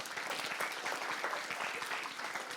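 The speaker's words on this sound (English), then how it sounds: "can we have a round of applause for sir?" A crowd claps steadily, a dense patter of applause at moderate distance, continuing throughout without voices.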